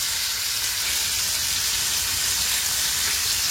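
Chopped garlic and mixed herbs such as oregano fry briefly in a pan, giving a steady, even sizzle that holds at close range from start to finish, with no voices.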